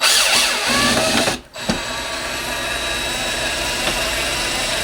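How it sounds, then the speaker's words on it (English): A power drill runs steadily at a low speed, its motor whirring continuously with a brief dip and catch partway through. "running the drill on a low setting"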